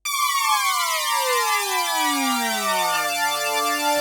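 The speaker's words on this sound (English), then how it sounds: "the THX inspired sound that we have in there" Synth preset chord inspired by the THX sound, a thick layered tone whose many voices glide smoothly and continuously in pitch, then settle into a loud sustained chord with no talking.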